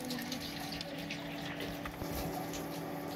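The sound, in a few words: cold water poured onto soaked soya chunks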